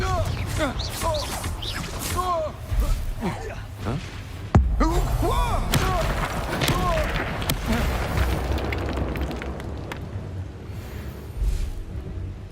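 A Confringo explosive spell blast from the Hogwarts Legacy video game: one sharp, loud burst about a third of the way in, set amid continuous combat effects, music and character voices.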